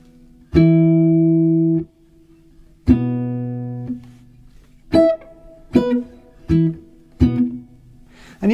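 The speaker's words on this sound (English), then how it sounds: "just to play those 4 octaves one after the other like this" Guitar octaves for a vintage jazz sound played one after another, two long ringing notes followed by several shorter plucked octaves in an even, unhurried rhythm, close and clear.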